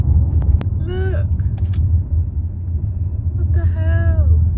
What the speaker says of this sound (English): What kind of cars are they? Really slow ones, out of the way.